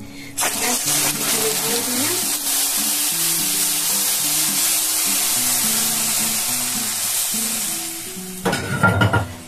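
Thickened milk kheer sizzles in a pan over a low flame, a steady close hiss with soft stirring for about eight seconds, a faint melody running underneath, before a brief louder clatter at the end.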